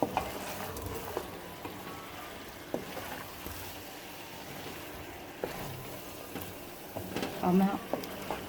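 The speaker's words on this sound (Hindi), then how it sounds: "अब हम इसे अच्छी तरह भून लेंगे।" Bhindi gosht masala, okra and meat with dry spices, being fried in a pan: a quiet, steady sizzle with occasional soft stirring clicks, fairly faint throughout.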